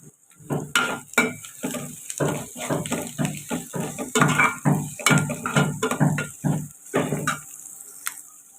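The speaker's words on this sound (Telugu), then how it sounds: "ఉల్లిపాయలు అయితే ఇలా ఫ్రై అవుతాను కదండి" Sliced onions and curry leaves frying in a pan for a potato-tomato curry, with repeated scraping and stirring strokes in a steady rhythm over a low sizzle, close and fairly loud.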